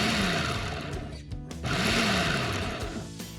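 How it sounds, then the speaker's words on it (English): A food processor pulses basil and macadamia nuts for pesto, its motor whirring loudly in two bursts separated by a brief pause. "I'm going to add in macadamia nuts and we're gonna add in the fresh basil, pulsing this so it gets all chopped up together."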